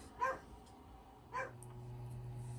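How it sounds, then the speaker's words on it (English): Two short barks from pet dogs indoors, spaced about a second apart, fairly faint against a steady low background hum. "My dogs were just barking at nothing."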